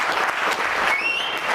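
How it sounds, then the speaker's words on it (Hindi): An audience applauds after a stage play, a dense, steady clatter of many hands clapping at moderate loudness, continuous through the brief stretch. "तालियों से स्वागत करें"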